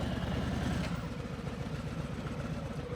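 A motorcycle fitted with a Rekluse automatic clutch pulls away in first gear as revs rise, a close, steady low engine rumble with a faint pulsing throb throughout.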